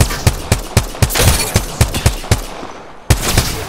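Gunfire rings out in a video game as a rapid, fairly regular series of about a dozen sharp, loud shots, close and punchy, with a brief pause before a final burst.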